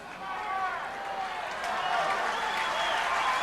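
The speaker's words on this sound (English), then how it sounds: "He gets, obviously, a nice round of applause from both sides of the stadium." Crowd applause fills both sides of the stadium at a 1988 high school baseball game, Eagle Pass versus Cooper, a steady, slightly rising wash of clapping heard at a distance under an announcer's commentary.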